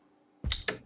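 A dry snare drum sample with no distortion applied, two sharp crisp hits in quick succession, heard alone and close.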